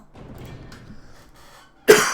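One sudden, sharp cough bursts out close to the microphone near the end, after faint, quiet talk during a card-game tournament.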